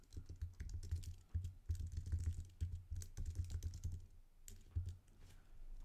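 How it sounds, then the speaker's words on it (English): Someone types a file path on a Mac keyboard into Terminal, a close run of quick clicky keystrokes in short bursts with a few brief pauses and no talk. "type in open, and then type in the entire path to the file that you would like to open"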